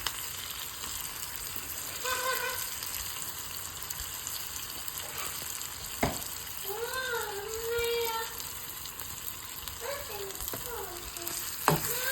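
A tempering for Andhra-style tomato pappu fries in hot oil, giving a steady sizzle with occasional stirring clicks close by. Voices, including a child's, are heard faintly in the background at times.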